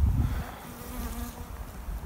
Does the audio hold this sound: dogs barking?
no